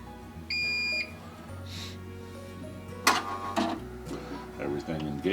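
An SWF MAS-12 embroidery machine engages during setup: a short electronic beep, then a low motor hum and sharp mechanical clatters and whirs of the moving parts, close and moderately loud.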